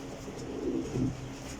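Desi flying pigeons coo softly, a couple of low, rounded coos close by in a quiet setting, with no talk.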